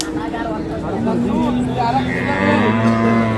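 Cows moo repeatedly in long, drawn-out calls amid a busy crowd at a cattle market, with people talking and general market bustle around them.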